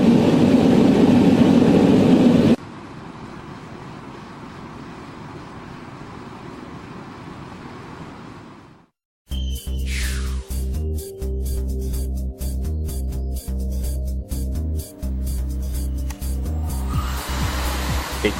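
A forced-air heater roars loudly at first, then drops to a quieter steady hiss from a VAL 6 radiant heater; after a brief silence, a loud droning machine with a low hum takes over.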